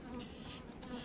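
Honeybees buzz around an open hive, a close continuous insect drone with a steady pitch that swells slightly in the middle of a brief moment.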